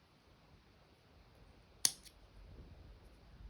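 Scissors make a single crisp snip through the yarn ends of a crochet jellyfish, a sharp, close click in an otherwise quiet room, with no talking.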